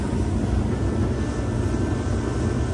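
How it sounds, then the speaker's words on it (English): A steady, loud broadband roar with a constant low rumble and a faint high whine, running without pause: a large blower-type space heater on a windy winter roofing job. "Thanks to the big heater."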